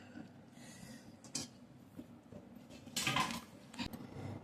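Quiet scraping and occasional clinks of a paddle stirring ragi porridge in a cooking pot, irregular soft strokes with a few sharper knocks against the pot.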